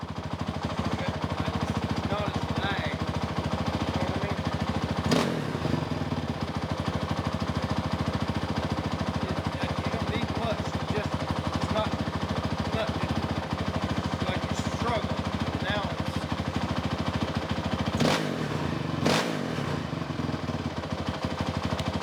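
A Honda TRX 450er ATV engine with a mesh airbox lid idling steadily nearby in a rapid, even putter, with a couple of sharp knocks and people talking over it.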